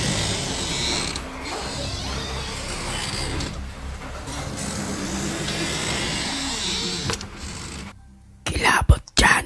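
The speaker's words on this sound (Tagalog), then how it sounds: "Narinig ko pa ang pagsara ng pinto ng elevator" An elevator door slides shut with long creaking, grinding mechanical noise, a sustained churn that ends in a sharp final clatter, played as a sound effect.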